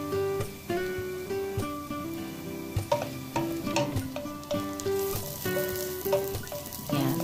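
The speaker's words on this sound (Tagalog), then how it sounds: "kapag naigisa-gisa na natin yung luya at sibuyas, isunod natin yung lemongrass guys" Ginger, onion and lemongrass sauté in a pan for Filipino chicken tinola, a steady close sizzle with stirring clicks over background music.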